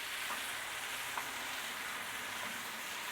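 A T-bone steak sizzles steadily in a hot pan, a dense, even hiss of frying with faint crackles and no talking.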